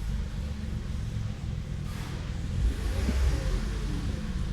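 A 2022 Toyota Avalon with a badly misfiring engine idles nearby with a steady low rumble and a slight swell near the end, and no one speaks.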